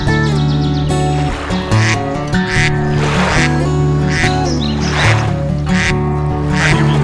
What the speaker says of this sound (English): As well as a pond filled with ducks.